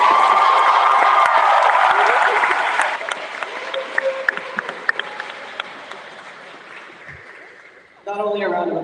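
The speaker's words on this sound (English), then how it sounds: "Not only a round of applause for our final two readers" Audience applause for the final readers at a creative writing showcase, a dense burst of clapping that thins into scattered claps and fades before a voice starts speaking near the end.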